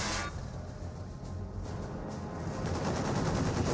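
Sustained MG42 machine gun fire in the World War II strategy game Company of Heroes, a dense, unbroken roar of rapid shots lasting the whole stretch, loud and close, with no talking.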